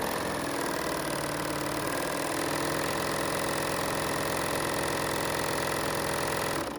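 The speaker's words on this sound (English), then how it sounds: "So what I'm doing is I'm stitching on no fabric," A BERNINA L 850 serger stitches a thread chain with no fabric, a fast, steady mechanical whir running continuously at close range before stopping abruptly at the end.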